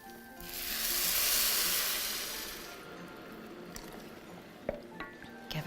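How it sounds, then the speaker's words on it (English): Boiling water pours into a pan of rice and peas at an outdoor barbecue cookery demonstration, a loud rushing hiss and sizzle that swells then fades, followed by faint drips and small clinks. "Get the boiling water in."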